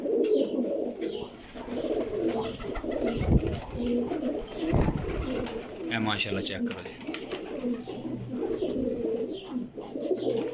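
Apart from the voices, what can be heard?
pigeons cooing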